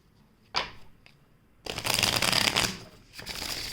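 A deck of tarot cards is shuffled close up, one short riffle followed by a longer, denser run of flicking and riffling cards, with no talk over them.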